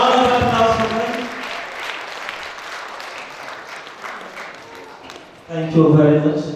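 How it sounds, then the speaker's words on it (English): An audience at a public lecture for the inauguration of a Centre for Security Studies breaks into a few seconds of steady, full applause, with a voice speaking before it and again as it fades. "A round of applause for them."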